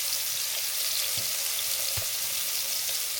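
Paneer frying in hot oil, a steady bright sizzle running throughout with a few soft low pops and bubbles near at hand.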